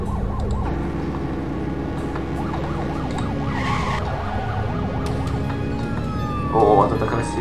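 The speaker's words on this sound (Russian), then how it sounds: "шифтом играешься, включаешь, постоянно меняются эти звуки сирены" A police car siren in the game The Precinct wails continuously over engine rumble, switching between different siren patterns, loud and close, with a short burst of a faster yelp near the end.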